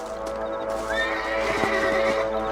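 A horse in the video game Red Dead Redemption gives a drawn-out whinny against a steady game soundscape, with soft hoof clops underneath and no speech.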